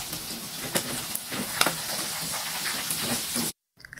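Steady loud hissing and sizzling of chicken frying in hot oil, with scattered crackles and pops, cutting off abruptly near the end.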